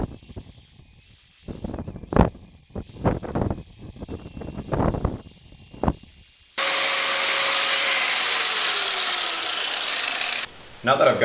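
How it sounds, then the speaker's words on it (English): Hand coping of a 135-degree inside corner on crown molding, with a few separate rasping file strokes on the wood, then a steady loud hiss of a power tool running continuously, stopping briefly near the end. "we're going to cope this angle"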